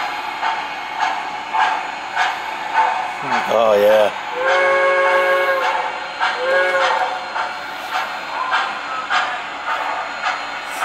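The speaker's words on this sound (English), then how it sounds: "you'll hear a banging and clatter that you hear in a freight yard rather than passenger terminal" An O gauge model steam train on a Pennsylvania Railroad layout clatters and bangs like a freight yard, with a whistle in the middle, while a voice speaks briefly nearby.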